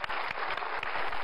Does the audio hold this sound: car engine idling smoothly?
no